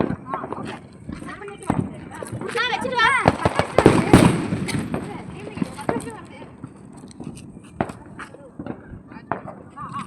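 Rapid bursts of Diwali firecracker pops crackle close by, some sharp and loud, scattered across the stretch with voices talking over them.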